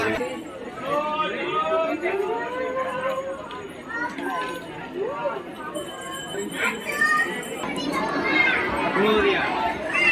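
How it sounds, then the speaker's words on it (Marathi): Dense crowd chatter at Siddhivinayak temple in Mumbai on New Year, many overlapping voices and children's calls filling the space continuously at close range, with occasional louder shouts rising above the steady murmur. "भरपूर गर्दी आहे"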